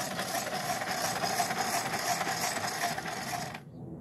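Wheels of a Bachmann 4-6-0 Big Hauler toy locomotive spinning off the track with no rails or transformer, a steady close whirring buzz with a fine rapid flutter that cuts off abruptly near the end.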